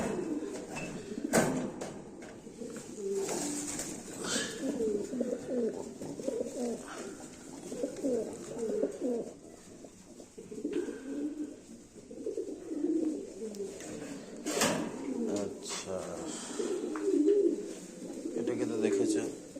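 American Fantail pigeons, breeding pairs kept in a loft, coo in low repeated murmurs that overlap almost continuously, fairly close and moderate in level, with some human voices faintly mixed in.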